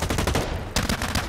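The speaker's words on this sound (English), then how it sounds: "Is that a minigun?" Rapid minigun fire in the shooter game Blacklight: Retribution, loud, dense bursts of rattling shots that pause briefly mid-stream before resuming.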